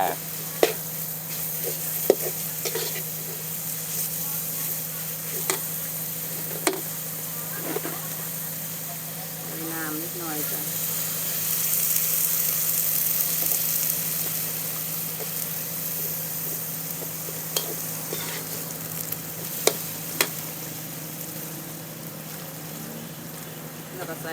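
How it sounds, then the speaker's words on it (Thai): Chili paste stir-fried in a pan with pork and fried garlic, a steady sizzle under scraping and stirring clatter, with occasional sharp utensil knocks and a voice speaking intermittently over the cooking. "แล้วก็พัดให้เข้ากันกับกระเทียมที่เจียวไว้เลยนะจ๊ะ"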